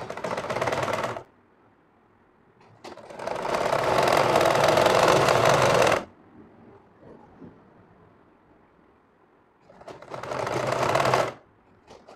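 A sewing machine runs in three bursts while stitching a frock: a short whir, a longer sustained run of several seconds, then another short run, each loud and close with quiet gaps between.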